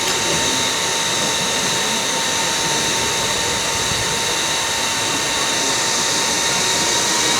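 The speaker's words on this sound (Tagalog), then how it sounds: "Kapag may naririnig kayong ingay na electric fan guys, naka-on na naman tong e-fan ko" An electric fan runs in Ubud, Bali, giving a loud, constant whooshing drone with a faint steady hum, unbroken for the whole stretch with no voices.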